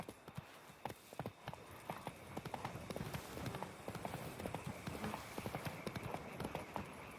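Steady clip-clop of Roach the horse's hooves in The Witcher 3: Wild Hunt, a continuous rhythmic trot of close, crisp hoofbeats over light ambient game sound.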